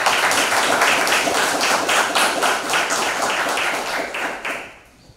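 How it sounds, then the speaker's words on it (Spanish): An audience applauds at a book presentation, a dense crowd of steady clapping that holds for several seconds before fading out at the end. "Si los recibimos, a ver, con un fuerte aplauso."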